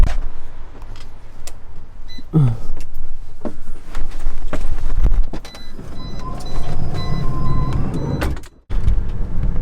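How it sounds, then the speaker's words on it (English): Interior of a private luxury van taking passengers from a hotel to a dental clinic in Antalya, Turkey: road rumble and engine hum with scattered clicks and knocks, a brief whirring mechanism and a short dropout near the end. "This is a fancy car."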